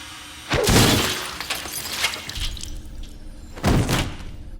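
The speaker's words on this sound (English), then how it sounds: "Jason takes a scientist's head, dunks it in liquid nitrogen, and then smashes it on a counter" A frozen severed head smashed on a counter in a Friday the 13th horror film scene: two sharp shattering crashes about three seconds apart, loud and close, with debris and rustling between them.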